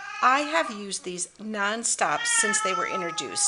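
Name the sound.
pet cat meowing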